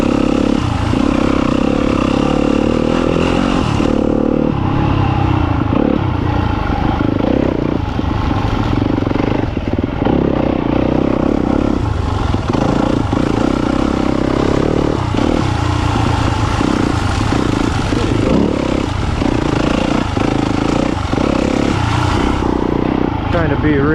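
Dirt bike engine riding through woods with light throttle, a steady droning motor note running loud and close throughout, with clattering and bumps over the trail and occasional talk over it.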